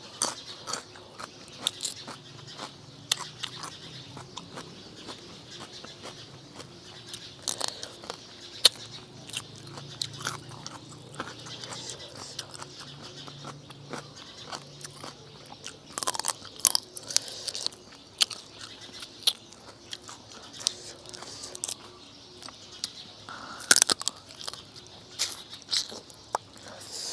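Crunchy bites and wet chewing of spicy Thai blue crab and fresh shrimp papaya-style salad with crisp banana stem, close up, irregular crackly crunches repeating throughout with no talk.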